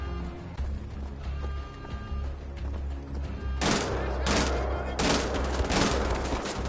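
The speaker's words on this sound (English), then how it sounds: "Probably shouldn't use the three-shot burst." Rapid bursts of gunfire from Wolfenstein: The Old Blood, loud and close, crackling in clustered volleys through the second half after a quieter stretch of game ambience.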